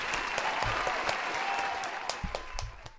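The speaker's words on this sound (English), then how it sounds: "Round of applause for this man, dude." A dense, steady round of applause rolls on without a break for a few seconds during a livestream.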